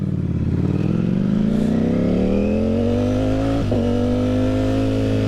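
A liter-class sport motorcycle engine runs close by. Its smooth, continuous drone climbs gradually in pitch as the revs build, with a brief dip near the end, loud and without speech.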